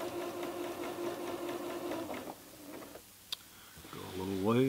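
Sewing machine stitching fabric, a quiet rapid mechanical whir that runs steadily then stops, with a person talking softly nearby near the end.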